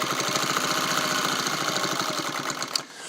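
A restored Singer 301A sewing machine stitches quickly through four layers of muslin, with a fast, even mechanical chatter that slows and stops near the end.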